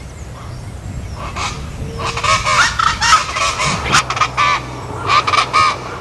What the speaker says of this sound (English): The coquerico is one of these and is the national bird of Tobago.